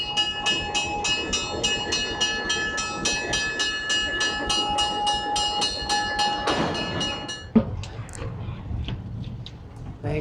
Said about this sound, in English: just waiting for the train to come down the track.